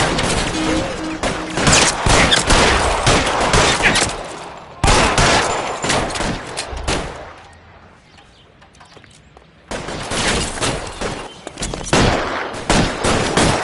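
Video game gunfire in L.A. Noire, with dense bursts of rapid shots and automatic fire in two loud stretches and a quieter lull between them. No voices are heard.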